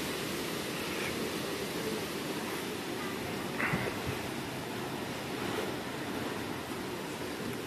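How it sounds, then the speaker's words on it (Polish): Steady rain and gusting wind from a cyclone in Mauritius make a dense, constant roar outdoors, with no voices, just a continuous wash of noise. "Trochę pada, trochę wieje."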